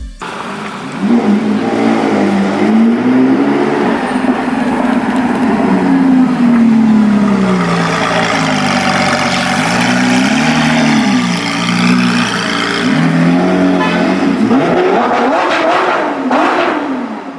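A Lamborghini Sian Coupe engine in the racing game Need for Speed No Limits roars loud and close for about fifteen seconds, rising and falling as it revs and accelerates, with no talking.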